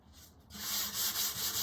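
Close, rhythmic sanding: sandpaper rasps back and forth over wood in quick, even strokes after a brief quiet start.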